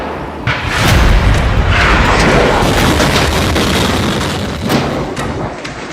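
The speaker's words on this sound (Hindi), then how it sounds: "कीव के बशीरिवका में ब्रिज पर मिसाइल अटैक।" A missile strike explodes on a bridge in Kyiv, producing a loud, sustained roaring rumble with a heavy low-end boom that swells early and stays dense for several seconds, with a second burst near the end.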